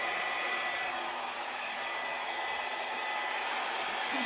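A hair dryer blows steadily and fairly close for about four seconds, pushing back freshly poured acrylic paint in a Dutch pour, a continuous airy hiss with no voices.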